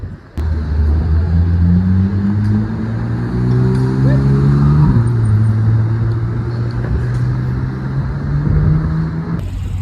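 A black Ferrari 458 Spider with yellow carbon-ceramic brake calipers drives past on a Paris street, its engine note rising through gears with a clear shift midway, loud and close over traffic noise and background chatter.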